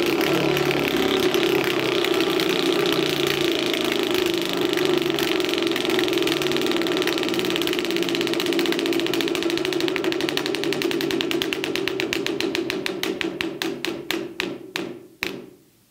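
A prize wheel spins for a county fugitive roundup, its rapid loud ticking gradually slowing into distinct, spaced clicks before stopping.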